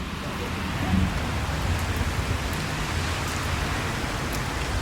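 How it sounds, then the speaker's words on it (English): Heavy rain pours in a dense, continuous hiss, loud and steady throughout, with a faint low rumble beneath. "It's raining like crazy outside right now too."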